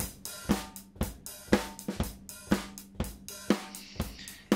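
Heavily compressed drum-style loop run through a Logical 3 compressor plugin set for aggressive squashing, with punchy, evenly spaced hits pumping in a steady rhythm, loud and close with no talking.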